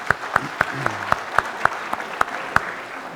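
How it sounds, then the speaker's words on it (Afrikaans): A church congregation claps for singing children, with sharp, evenly spaced rhythmic claps ringing out over a softer wash of clapping hands. "Kom ons gee vir hulle 'n lekker hande klap"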